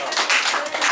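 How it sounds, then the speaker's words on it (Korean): A short burst of group clapping at a church youth service birthday blessing, dense and bright, with no talk over it. "우리 박수로 한번 축복합니다"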